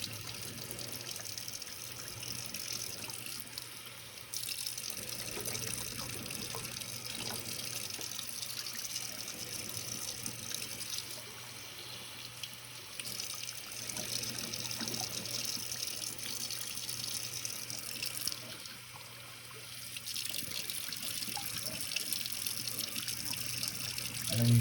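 Water flows steadily while a part of a residential furnace is flushed, a continuous running gush with small variations in strength. There is no talk.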